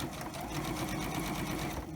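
A sewing machine chain-sewing face masks runs continuously and close, a steady rapid whir throughout the short moment.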